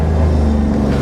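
A Smart Brabus car's engine, an abandoned car recovered from a farm, hums with a steady low rumble, held at an even loud level for about a second.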